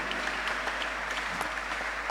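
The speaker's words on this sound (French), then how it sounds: "Vénère-les par les acclamations." Church congregation applauding and acclaiming in a dense, steady wash of clapping that fills the room at moderate distance, with no gaps over a short span.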